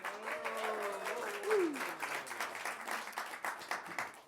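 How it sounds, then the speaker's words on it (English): Audience applause at a live music show in the round, a continuous patter of clapping with overlapping voices and a brief whoop, moderately quiet and sustained. "Let's give them a round of applause too."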